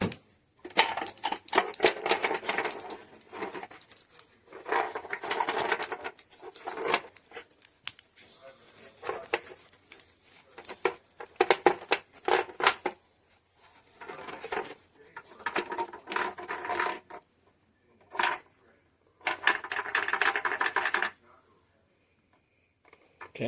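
Portable 1500W/750W electric space heater with thermostat, rattling in irregular bursts of clattering, ticking noise that stop and start over about twenty seconds, close and fairly loud, with no talk.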